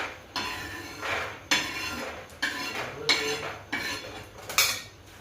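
Roasted peanuts scraped out of a metal pan with a utensil, giving five or six sharp metallic clinks and scrapes at a steady rhythm, close and clear with no talking.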